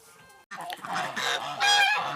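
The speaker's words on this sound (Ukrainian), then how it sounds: "Ось наші гуси, гуси крикуни." Several domestic geese, including grey ones, honk loudly and repeatedly close by, a noisy overlapping chorus of nasal calls.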